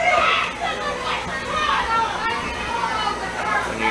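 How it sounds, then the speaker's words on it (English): Crowd at an East Central college softball game in a Region 23 matchup against LSU-Eunice reacts with a sustained, dense swell of voices and shouts, steady and fairly loud throughout with no single voice standing out. "you hear the East Central crowd not happy with that one"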